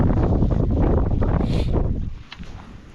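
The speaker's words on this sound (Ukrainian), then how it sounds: "Вітер, правда, сильний, боковий, шнур видуває." Strong crosswind buffeting the microphone on a pond bank while pike fishing, a loud steady roar and rumble that eases off toward the end.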